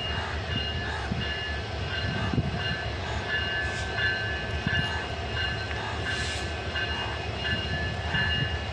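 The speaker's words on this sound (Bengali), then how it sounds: "এই যে দেখে ট্রেন এটা এই পর্যন্তই আইব" A train rolling along rails near a railway workshop yard, a loud continuous rumble of wheels and wagons with faint squeals, heard close and unbroken throughout.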